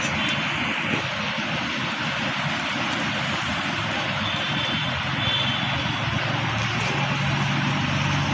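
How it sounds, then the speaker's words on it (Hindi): A fixed-wing airplane drones steadily overhead in a Delhi neighborhood, a loud continuous engine roar that holds even throughout without talk. "विमान आता"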